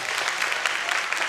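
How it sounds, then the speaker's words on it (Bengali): Brief, steady applause from an audience in the Chhayanaut auditorium in Dhaka, many hands clapping at an even, moderate level without a break. "আমরা তাকে স্বাগত জানাই চমৎকার একটি করতালির মাধ্যমে"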